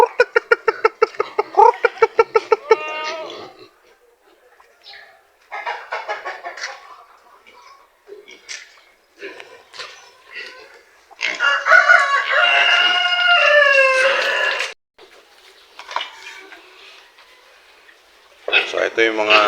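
Native chickens on a farm cluck in a rapid, close-up series, then a rooster crows loudly in a long drawn-out call, with more scattered clucks and fowl calls around it and no speech.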